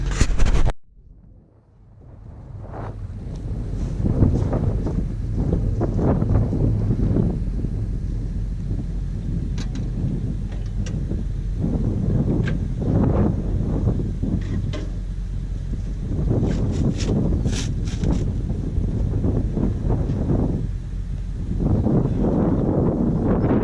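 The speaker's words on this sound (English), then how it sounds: "The wind blew my camera over. It's too windy out here." Strong wind gusts across an open hay field where a Claas Uniwrap baler is working, buffeting the microphone with loud, steady roaring and rustling for over twenty seconds after a brief sharp knock at the start.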